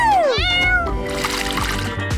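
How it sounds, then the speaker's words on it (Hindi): A kitten gives a loud, close, rising-then-falling meow, followed by softer bumps and clatter in the background. "बिल्ली का बच्चा तुम्हारा है मैरी।"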